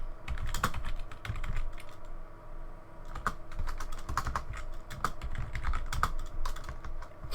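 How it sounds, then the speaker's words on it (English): Fast typing on a computer keyboard, a dense, continuous patter of close, crisp key clicks with small bursts and brief pauses over about seven seconds, with no voices. "I'm typing too fast."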